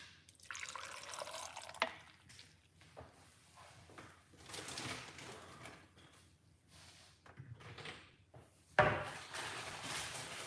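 Water being poured while making an olive oil and lemon drink: uneven splashing and trickling of liquid into a container, with scattered drips and a sharp clink of glass near the end, close and fairly loud.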